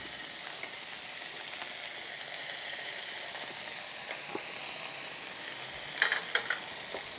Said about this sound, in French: Hop, je déglace.